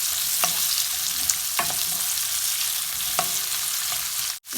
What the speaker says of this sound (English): Just stir fry there from 2 minutes.